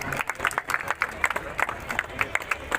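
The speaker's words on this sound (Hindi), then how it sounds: "जोरदार तालियों से आप उनका भी स्वागत करिए" Rhythmic, fairly even clapping from a crowd at an outdoor medical camp ground, moderately loud, with crowd noise and voices underneath.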